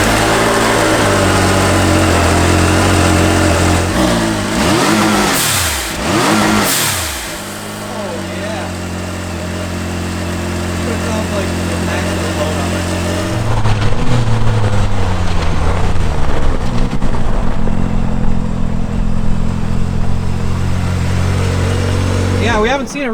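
A Ford Maverick R engine revs loud and close, fitted with an aftermarket blow-off valve, with a few sharp bursts early on, then a steady rumbling idle and a rougher surge later while people talk over it.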